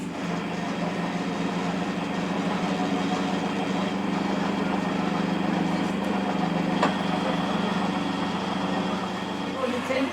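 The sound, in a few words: old milk centrifuge separating milk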